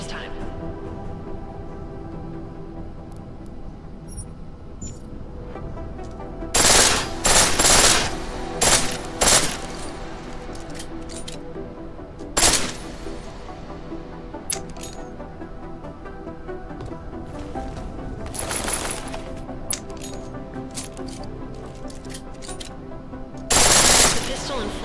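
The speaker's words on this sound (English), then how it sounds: "The pistol in full auto will take down targets fast, but it'll burn through your ammo" A pistol set to full auto in the video game Deus Ex: Mankind Divided, firing in several short rapid bursts over a steady background, with a voice talking between them.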